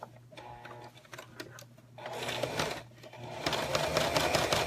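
A sewing machine stitches around all four sides of a zipper project, starting with light ticking, then running in a steady, fast whirring hum that grows louder, close by with no talk.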